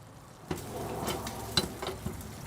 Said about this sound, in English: A little bit of olive oil, Right. and then we fry off our kidney.